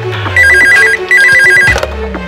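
A telephone rings loud and close at a hotel counter, two bursts of rapid electronic trilling separated by a brief pause, with faint background movement.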